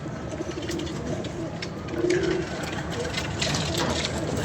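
Pigeons coo faintly at an outdoor loft, a soft low throaty call rising briefly midway over a constant background hiss and murmur.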